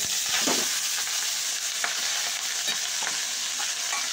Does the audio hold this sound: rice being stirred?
yes